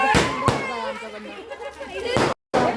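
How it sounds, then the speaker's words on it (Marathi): Firecrackers bursting outdoors at a wedding celebration, a few sharp pops spaced apart, with people talking and musical sounds running underneath. "फटाकडे फुटत आहे तिकडे"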